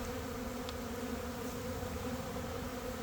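Honeybees make orientation flights in front of their hive: a faint, steady buzzing hum of many wings with no talking.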